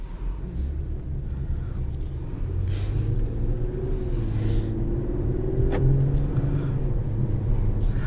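A 2021 Infiniti Q60S Red Sport 400 with a 7-speed automatic drives along, heard from inside as a steady low rumble with road noise and a gentle engine swell, close and continuous, with no speech.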